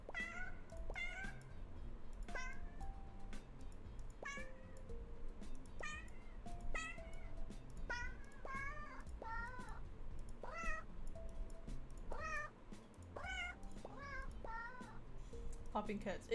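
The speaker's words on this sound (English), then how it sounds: "Popping cats. It is peak gameplay." Cartoonish cat meows from a cat-popping video game ring out in a quick, repeated series of short, bright mews over a low background murmur of voices.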